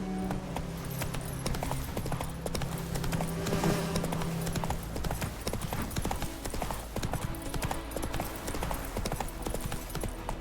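Roach the horse trotting in The Witcher 3, a brisk steady clip-clop of hooves running continuously with ambient game sounds underneath.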